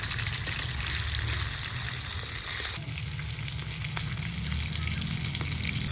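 Bone-trimmed chicken leg pieces frying in a small amount of oil give a steady, close, loud sizzle with dense crackling that runs without a break.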